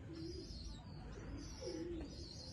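Soft, low pigeon coos repeat twice over steady background hum, with faint high chirps from other birds nearby.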